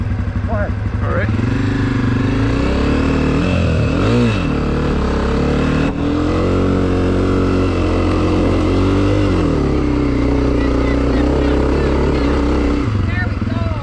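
A dual-sport motorcycle engine revs close by, its pitch rising and falling steadily throughout; voices talk faintly beneath the engine drone.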